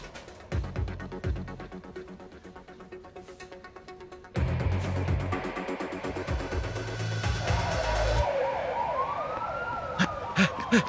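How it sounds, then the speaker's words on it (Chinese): Police car and ambulance sirens wailing together in repeating up-and-down sweeps, steady and fairly loud, with a vehicle engine rumbling underneath and a sharper rising-falling wail near the end. "我刚才有看到警车还有救护车从这边离开。"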